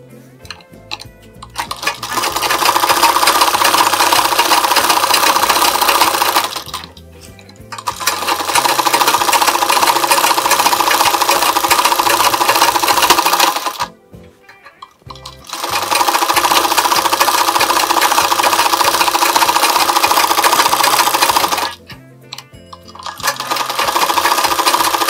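Sewing machine stitching the lining of a blouse, running loud and steady in three long bursts separated by brief pauses.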